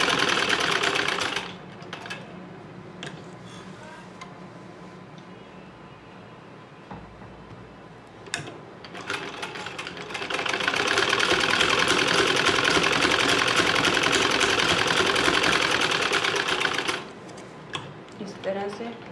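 Sewing machine stitching a square neckline on fabric, a fast steady mechanical whirring in two long bursts separated by quieter handling sounds, close and clear, with a person talking softly between runs.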